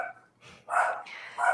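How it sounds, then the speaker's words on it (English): A dog barks indoors, two or three sharp, fairly close barks in quick succession at moderate volume, with short pauses between them. "so I'm going to stop him from barking."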